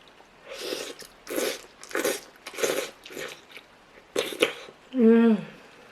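Jin Ramen mild instant noodles with small cabbage and carrot bits are chewed close to the mic in a steady rhythm of soft, moist bites, ending with a hummed murmur of approval.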